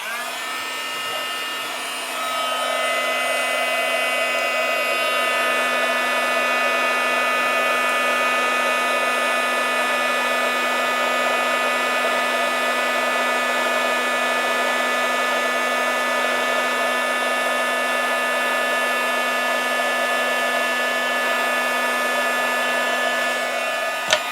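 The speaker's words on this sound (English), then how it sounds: "I do like to put my lid on before I start up my heat gun. Warm it up a little bit, and then just melt the powder" Heat gun blowing over embossing powder on a card, starting after a brief quiet moment and then holding a steady, loud, close whine and rush of air for the rest of the time.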